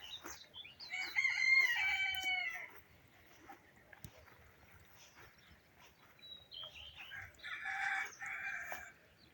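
A rooster crows loudly nearby, followed by quieter background ambience and then another burst of crowing and clucking from chickens.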